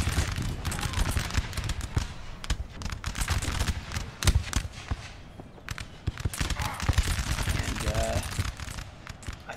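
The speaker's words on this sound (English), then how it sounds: "they're gonna get some beautiful volleys off" Musket volleys fire in Napoleon: Total War as dense, rapid crackling rounds of gunfire, loud and near, rolling on continuously with brief gaps and a faint voice at the end.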